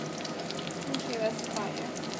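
Potato balls deep-fry in hot oil with a steady, dense crackling sizzle, close and moderately quiet, continuing without pause.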